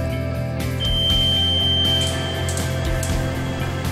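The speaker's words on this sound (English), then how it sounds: "When you turn on the exhaust switch, you should hear an audible beep" A single electronic beep from a hood's exhaust switch sounds briefly over a steady mechanical hum of running equipment.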